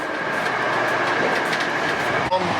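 Passenger train from Krakow toward Lviv heard from inside the carriage, a steady loud rumble and rail noise filling the whole stretch, with a brief clunk near the end.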